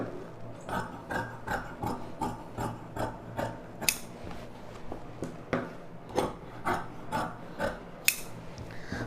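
Scissors cut chudidhar lining fabric along a marked line with a steady series of close, crisp snips, roughly two per second, with a few sharper clacks along the way.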